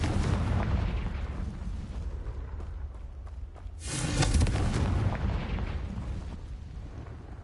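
A Confringo fire spell blast in Hogwarts Legacy erupts as a loud, sustained burst about halfway through, following a rumbling stretch of combat noise and then fading back into the din.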